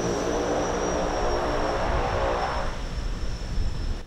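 A small Shark model light airplane descends to land at Pointe-la-Rue international airport, its propeller engine droning loud and steady, slightly easing toward the end.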